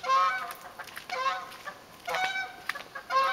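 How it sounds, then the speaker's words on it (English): Several geese honk repeatedly in overlapping calls, fairly clear and close, passing overhead in a small group in early morning over a garden in Canada. "I see some geese flying over."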